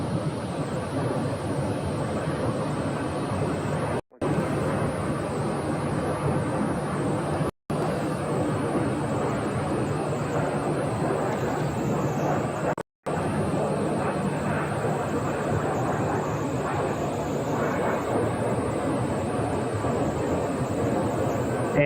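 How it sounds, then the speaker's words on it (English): An old KC-135 jet at Phoenix airport near the Arizona National Guard ramp gives a steady, loud broadband engine roar with a low rumble that continues throughout, broken only by brief cuts. "A very old aircraft, but still going."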